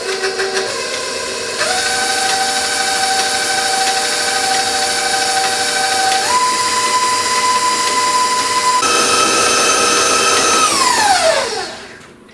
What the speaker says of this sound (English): Let me finish mixing this.